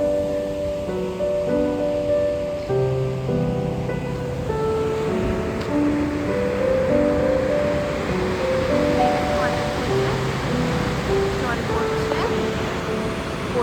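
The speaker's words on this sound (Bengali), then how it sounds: "রিডু ফলের থেকে এই যে জল পড়ছে" Water pours over Rideau Falls in Ottawa with a steady broad rushing roar, and a person talks over it throughout.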